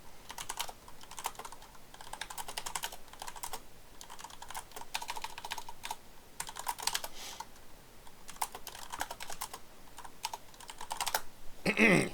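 Typing on a computer keyboard: a steady run of quick keystrokes, fairly quiet and close, with no voices over it.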